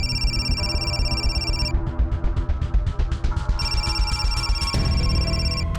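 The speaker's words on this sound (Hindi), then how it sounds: "प्रकाश सर का फोन है।" A telephone rings with a repeating electronic ringtone, loud and close, cycling through bright tonal bursts without any voices.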